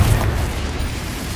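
A Confringo explosive spell blast from the game Hogwarts Legacy, a loud, dense low boom that hits at once and rumbles steadily on without a break.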